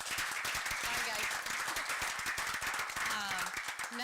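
A city council meeting audience applauds two shelter volunteers, a short burst of dense clapping mixed with a voice talking over it.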